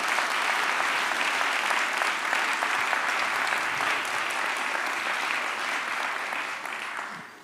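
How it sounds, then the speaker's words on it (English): Sustained applause from a crowd at a mayoral town hall meeting, dense and even for about seven seconds before tapering off at the end. "give your neighbor a round of applause"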